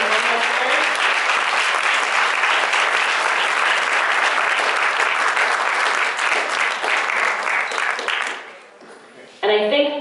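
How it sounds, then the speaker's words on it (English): An audience at the 2015 Prosper Rochester Garden Contest awards ceremony claps loudly and steadily for about eight seconds, then the applause fades out and a voice begins speaking. "let's give everyone a huge round of applause for the 2015 Prosper Rochester Garden Contest"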